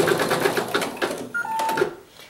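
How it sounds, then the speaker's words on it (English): An embroidery sewing machine stitching eyebrows on a raccoon mug rug: rapid, even mechanical clatter of needle strokes for about two seconds, then a short whirring tone before it winds down. "I'm going to start the machine, and it's going to stitch our little eyebrows"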